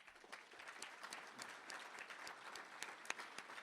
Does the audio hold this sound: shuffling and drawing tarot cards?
no